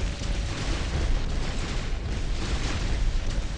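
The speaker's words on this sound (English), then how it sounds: "Got him with 2 cannon shots." Cannon shots and explosions in the mech combat video game War Robots, heavy booming blasts over a dense, continuous wash of battle noise with no clear gaps.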